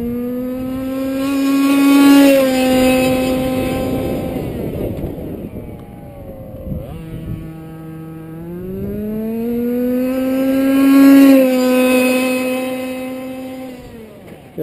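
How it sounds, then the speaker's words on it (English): An FG Modellsport Sportsline RTR 4WD touring sedan, a radio-controlled car, runs its electric motor at top speed. The high tonal whine swells as it passes close, fades, and then rises again on a second loud pass. "that motor just singing at the top end there"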